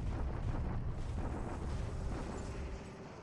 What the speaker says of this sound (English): a Japanese bombardment of Tongi